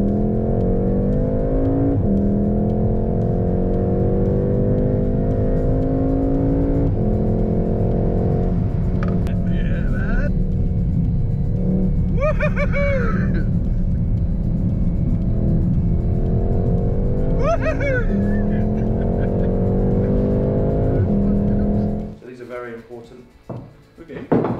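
A 300-horsepower car lapping the Nürburgring, its engine a loud, sustained drone with gear-change steps and revving swells, while people talk over it; the engine note cuts off abruptly near the end.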